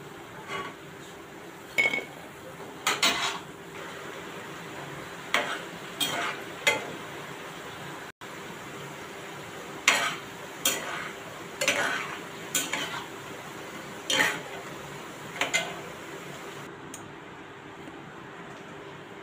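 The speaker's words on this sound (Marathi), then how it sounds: "आता आपण यांना काढून घेऊया. तेल नितळून घेते मी." Fried moong dal pakoras lifted out of hot oil and drained, with a faint continuous sizzle under a series of sharp clinks and scrapes of a slotted spoon against the pan, spaced irregularly and close by.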